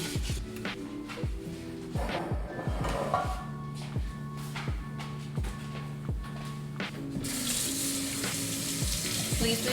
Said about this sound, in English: heat up our oil and prepare for frying